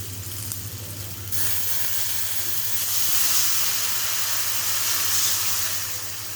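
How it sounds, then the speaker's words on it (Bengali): Water goes into a hot pan of potato curry with salt and turmeric, cooked village-style with tengra fish. A quiet simmer jumps to a loud, steady hissing sizzle that holds for several seconds, with no talk. "লবণ হলুদ দিয়ে এবার আমি এর ভিতরে জল দিয়ে দেব।"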